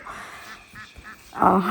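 Free-range ducks at a poultry farm in Pickering give a few faint nasal calls before a louder, harsher quack bursts out nearby at the end.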